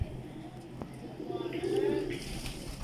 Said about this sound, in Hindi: ये हमारे सलारे टैडी कबूतर है